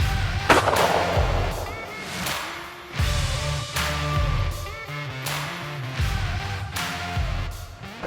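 A single sharp shotgun blast at a low going-away clay target, heard early on, loud and close, over steady background music that runs throughout.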